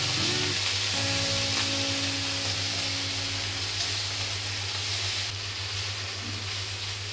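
Ginger paste and onion paste fry in oil for a fish curry, making a dense, steady sizzle throughout. A low, constant mechanical hum sits underneath, and faint stirring is heard now and then.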